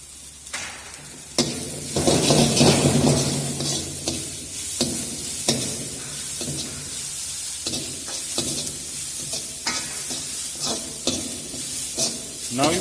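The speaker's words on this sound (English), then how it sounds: "Now you can see all the vegetables has been added and we have stirred it properly." Chopped cabbage and mixed vegetables frying in a pan, with a continuous sizzle broken by repeated scraping stirs of a spoon against the pan at an irregular rhythm.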